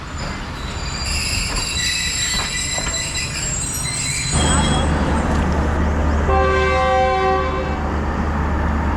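Train pulling away from the platform at Gujrat railway station: loud screeching wheels and rumbling cars, with a horn toot and a rising low roll as it gathers speed, and voices in the background.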